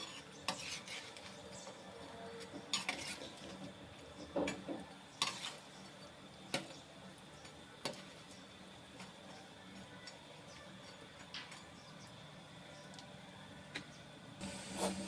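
Punugulu fritters are turned over in hot frying oil, with scattered metallic clinks and taps of a utensil against the pan over a steady low hiss of frying, fairly quiet and without speech.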